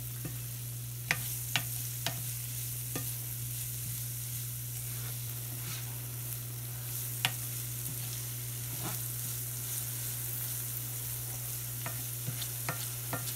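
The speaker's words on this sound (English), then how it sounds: "so here I am just stirring" Meat being stirred in a hot pan for pork carnitas tacos, steady sizzling and frying under a constant low hum, with occasional sharp scrapes and clicks of the utensil against the pan, close and moderately quiet, no talking.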